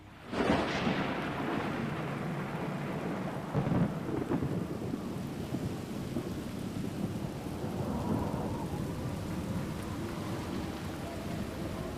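A storm at sea off Cape Horn, with wind, snow and heavy rain: a steady roar of rain and wind, a sharp thunder crack near the start and a low rumble rolling through, with no voices.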